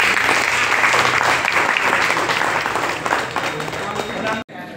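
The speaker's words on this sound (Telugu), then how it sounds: "ప్లీజ్ సార్ క్లాప్స్ గట్టిగా." A crowd of people at a teachers' felicitation ceremony claps loudly and steadily in a dense burst of applause that stops abruptly at the end.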